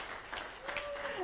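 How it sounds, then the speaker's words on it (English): Audience applause at the opening ceremony of an international youth conference, a soft, somewhat distant patter of clapping from a crowd with a faint tone and voices mixed in. "Applause."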